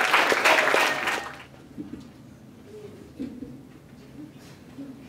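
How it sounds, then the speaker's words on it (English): An audience claps to welcome a speaker to the stage, a dense burst of applause that fades after about a second and a half, leaving quiet room sound with a few faint voices. "Give her a round of applause."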